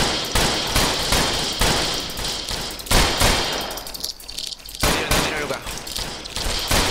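Rapid bursts of gunfire in the Roblox Western game Westbound, loud, close repeated shots in dense volleys with brief pauses between strings.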